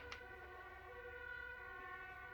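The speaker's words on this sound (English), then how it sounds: "That's a siren." A distant fire department siren wails faintly and steadily in the background, its tone holding over low ambient rumble.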